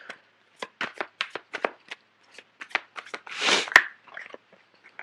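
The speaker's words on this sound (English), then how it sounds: "I'm going to pull out a few cards for the Seven of Swords." Tarot cards riffle and slap in a run of crisp, close bursts, shuffled and drawn with short pauses between, followed by a longer rustling sweep and a sharp snap near the end.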